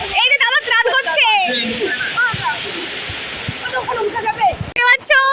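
Strong rushing current of water at a dam at Balurghat, a steady roar close by with voices talking over it for much of the time.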